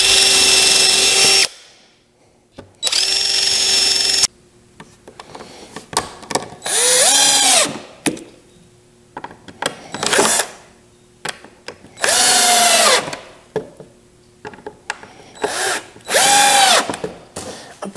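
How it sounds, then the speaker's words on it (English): A power drill drives screws into a wooden gliding rocker, sounding as a series of loud whirring bursts that rise in pitch as each screw seats, separated by short pauses with light handling noise. "All I'm doing here is just zapping in screws."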